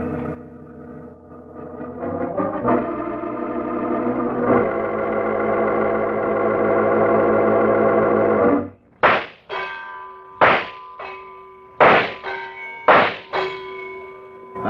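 Shooting gallery guns go off in a penny arcade as a staged radio-drama effect: a ringing, droning passage gives way to a run of sharp, loud shots fired at uneven intervals.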